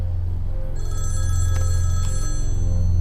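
A telephone rings in a film scene, giving a steady electronic ringing tone over a loud low hum that continues throughout, with no one speaking.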